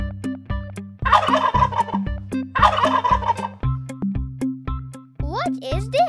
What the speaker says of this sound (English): Turkey.